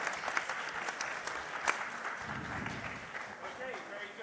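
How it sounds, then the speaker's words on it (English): Audience applause for panelists on an afternoon startup-conference stage in Mexico City, a steady wash of clapping that holds for about four seconds at moderate volume, with faint voices underneath. "please give an applause to these great"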